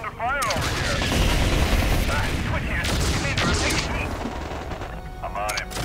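Heavy fire in MechCommander 2, with booming artillery and rapid gunfire blasts stacked loud and dense throughout, under occasional radio-style voice chatter and game tones.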